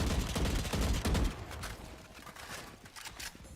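Rapid gunfire in the tactical shooter Valorant, a player tapping shots through smoke: dense bursts of loud, close shots for the first second and a half, then quieter scattered in-game clatter and movement.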